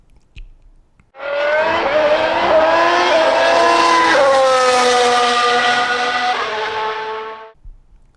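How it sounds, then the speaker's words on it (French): Formula 1 race cars roar off the start line together, a dense, loud engine wail rising and sweeping in pitch for about six seconds before fading, with no talk over it. "démarrez vos moteurs. C'est un départ."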